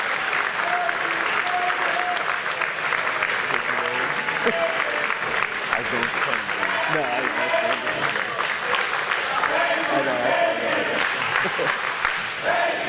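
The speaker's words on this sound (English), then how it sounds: "how about a big round of applause?" A large crowd at an independent wrestling event applauds loudly and continuously, with scattered cheers and whistles mixed into the clapping.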